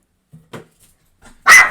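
A small dwarf spitz dog gives a couple of short yips, then one loud, sharp bark close by, with quiet pauses between.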